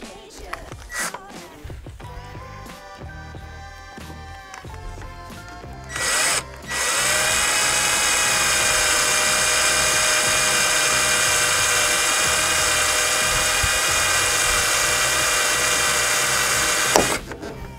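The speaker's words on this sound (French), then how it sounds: "il faut percer le rivet" A power drill bores through a rivet in the door lock mechanism of a Renault Laguna 3, starting with short bursts and then holding a steady, loud high whine for about ten seconds before stopping.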